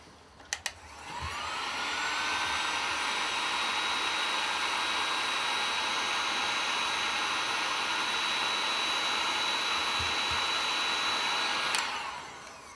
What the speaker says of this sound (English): And the next step is the heat shrink gun.